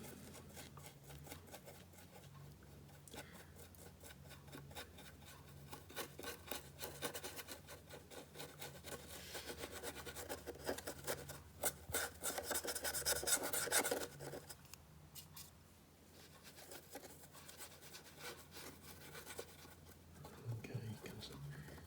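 Weathering is rubbed onto the windows of a model tank with a dry, scratchy rasping, a steady close stroking that grows busier in the middle, with a person talking quietly over it.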